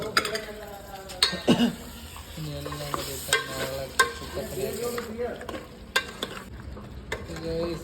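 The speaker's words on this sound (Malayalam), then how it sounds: "എല്ലാം കൂടിയിട്ട് മിക്സ് ചെയ്യുവാണ്" Chicken curry ingredients are stirred together in a pan, bursts of sizzling and scraping spoon strokes against metal, with voices talking intermittently underneath.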